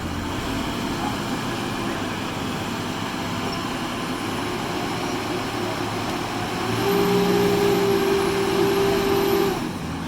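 A repurposed aircraft tug tows an IS-3M Soviet heavy tank indoors over plywood, a steady engine drone that rises with a sustained higher-pitched whine near the end before easing off.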